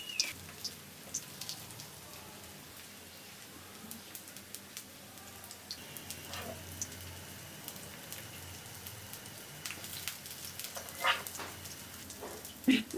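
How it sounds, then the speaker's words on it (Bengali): A little oil fizzes and crackles softly as fast food fries in a frying pan, a faint steady sizzle with scattered pops and no talking. "দেখুন বন্ধুরা ফ্রাই প্যানে এটা ভাজতে হবে, বেশি তেলে ভাজা যাবে না।"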